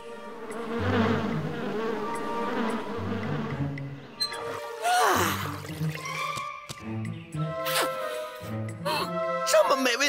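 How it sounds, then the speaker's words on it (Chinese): Cartoon bees buzz in an animated scene, a shifting, droning hum that rises and falls while characters speak over it. "这些蜜蜂平时也不这样啊，就是采蜜也没必要把花都破坏了呀。"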